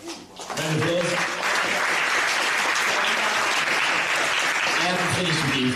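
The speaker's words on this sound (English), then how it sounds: "Round of applause." Sustained applause from a crowd at a running race's awards ceremony, rising quickly and holding dense and loud, with a voice talking over the start and again near the end.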